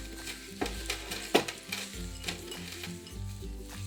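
Slime made with a Poopsie unicorn crush horn is stirred, giving soft wet squelches and scraping knocks in an irregular rhythm, faint and close.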